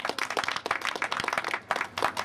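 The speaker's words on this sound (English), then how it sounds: "You should give yourself a round of applause" Audience applause in a gathered crowd, brisk dense clapping from many hands throughout, steady and fairly loud with no talk over it.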